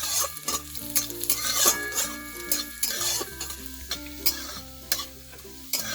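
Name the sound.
garlic cloves lightly frying in oil while stirred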